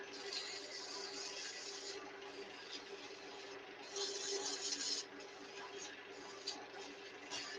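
A stacked-barrel wooden turning is sanded with a finer grit, giving a steady raspy hiss that runs unbroken and swells briefly partway through.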